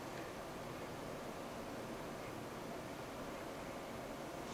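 Steady airbrush hiss spraying white highlight paint onto a stencilled firefighter-with-axe artwork, a faint continuous airflow close to the microphone with no breaks and no voices.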